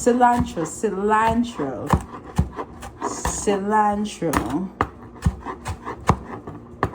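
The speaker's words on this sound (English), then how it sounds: "So I'm just chopping up my celery." A knife chops celery and cilantro on a cutting board in a home kitchen, sharp close taps coming in quick irregular bursts while someone talks over them.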